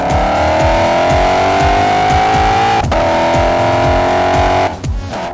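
Lexus IS-F V8 with PPE headers, custom tune and X-Force exhaust revving hard, a loud, rising engine note with a sharp shift break mid-way before climbing again, then easing off at the end.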